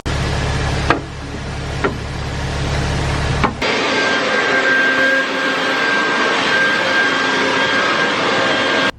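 A blower clears leftover grain from a grain bin doghouse after augering, giving a loud, steady roaring rush. A few sharp knocks come early, and the tone shifts partway through as the airflow changes.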